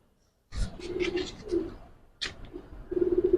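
Two Giribaz pigeons puffing and hissing like snakes, breathy bursts mixed with low throaty coos, close and fairly loud, with a second hiss later and steady cooing toward the end.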